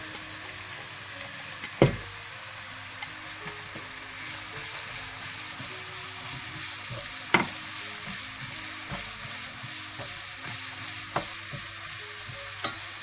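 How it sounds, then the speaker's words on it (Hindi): Cabbage stir-frying in a pan for vegetarian hakka noodles, a steady close sizzle throughout with a few sharp spatula clinks against the pan. "एक से 2 मिनट के लिए इसको भून लें।"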